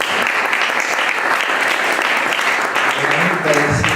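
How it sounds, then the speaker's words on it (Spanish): A crowd at a twentieth-anniversary book event for a dance company applauds steadily in a dense wash of clapping, with voices rising beneath it toward the end. "un aplauso por lo menos"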